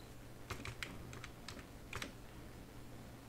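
Typing on a computer keyboard, a few soft key clicks in a short cluster, faint and close, over a low steady hum.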